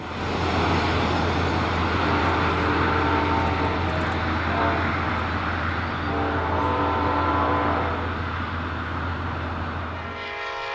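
The Amtrak Coast Starlight passenger train passes near San Jose with a loud, steady rumble of wheels and engine, then fades toward the end.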